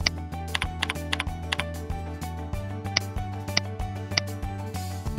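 Keys clack on a computer keyboard in an irregular run of light taps, close and fairly quiet against a low steady hum, with no voices.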